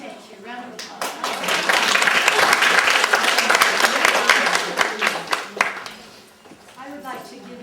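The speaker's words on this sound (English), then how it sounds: "Round of applause." Audience applause at a pageant-style event, dense clapping that swells over several seconds and then tapers off, with voices talking over it.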